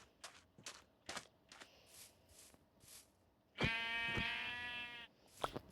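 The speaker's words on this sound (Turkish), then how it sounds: "Eve doğru giderken orada bir koyun var." A string of soft clicks and taps is followed by a long, loud Minecraft sheep bleat, then a few more light taps. The sounds are clean and game-like.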